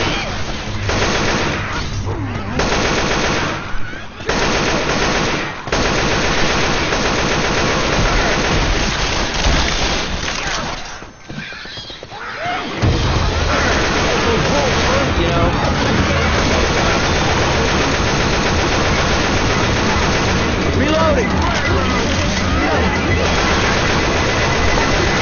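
Left 4 Dead 2 video game: near-constant gunfire against zombies, dense rattling shots under a noisy, rain-like wash. The fire thins briefly midway, then resumes just as thick. Voices are heard now and then.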